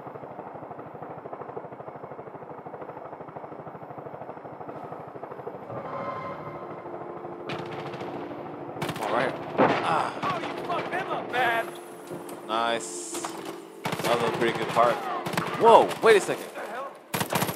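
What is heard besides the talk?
gunfire in video game Far Cry 5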